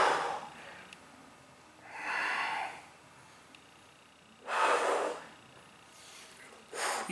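Heavy breathing during a one-minute plank exercise after push-ups and burpees: three or four slow, strained exhalations spaced a couple of seconds apart, close and fairly quiet, alone without talk.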